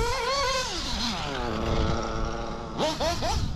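A modded Novarossi P5 based nitro model engine rips close and loud, a sustained high-pitched whine with wavering pitch, then several quick sharp revs blipping up near the end.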